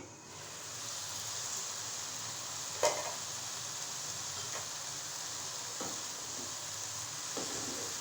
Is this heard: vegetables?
yes